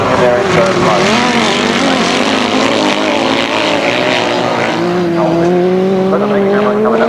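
Sidecar motorcycles race at a 1991 grasstrack meeting, engines screaming loudly and rising and falling in pitch as machines pass and accelerate, with a commentator talking over the constant roar.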